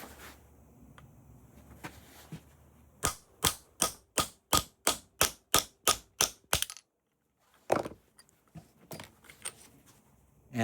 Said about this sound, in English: I want to pound right on here. Just use some sort of punch.